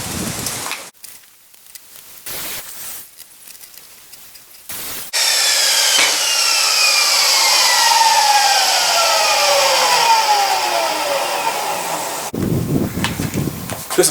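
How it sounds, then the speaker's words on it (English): A miter saw set to 45 degrees cuts wood for a tool tote: short bursts of motor whine, then a long, loud spin-down whine lasting about seven seconds, followed by a sharp clattering burst at the end. "So I have the miter saw set up to cut 45 degrees."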